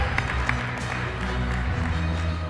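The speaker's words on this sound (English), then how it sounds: "can we just have a round of applause for all 16 teams?" An audience at a Battlecode 2018 final tournament gives a round of applause for the competing teams, a faint, even patter of clapping from a hall with sustained music tones underneath.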